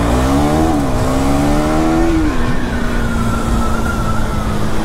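KTM Duke 390 Gen-3 and Gen-2 motorcycles race hard, a loud, close engine whine climbing through the revs, dropping at a gear change, then holding a high steady drone.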